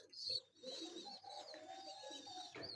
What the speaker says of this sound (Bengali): এটা হলো পাকিস্তানি চাপড়া কবুতর।